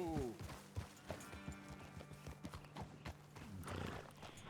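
Horse hooves clip-clopping in Red Dead Redemption 2, a steady run of close, sharp hoofbeats with an occasional whinny, while a voice talks over them.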